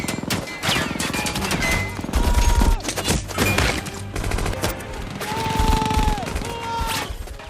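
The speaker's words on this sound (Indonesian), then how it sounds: "dan baku tembak pun kembali terjadi" Gunfire rattles through a film battle scene, with rapid machine-gun bursts, heavy booming impacts and crashes layered over dramatic music, dense and loud throughout.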